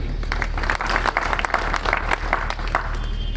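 A crowd applauds in a hall, sustained dense clapping with small swells, steady and fairly loud throughout and not broken by speech.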